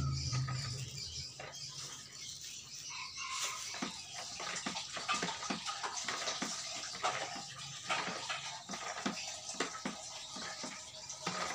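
Water poured and splashing into a container while making homemade dishwashing liquid, a steady close patter and trickle with scattered drips and knocks, no speech.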